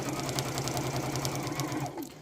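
Sewing machine stitching steadily around the edge of a fabric beach bag, a fast even needle rhythm running close and loud throughout, then easing off at the very end.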